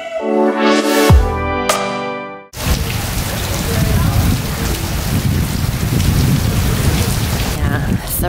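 Heavy tropical rain pours steadily on Harvest Caye, Belize, a dense loud wash of drops on surfaces that follows a brief tonal sound at the start.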